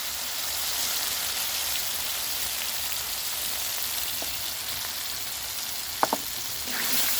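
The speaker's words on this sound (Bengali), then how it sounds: "ডিম ভুনা করার জন্য। ভালো করে নেড়ে নেব।" Egg bhuna frying in spiced oil in a pan, a continuous soft sizzle with a few faint clinks of a spoon stirring near the end.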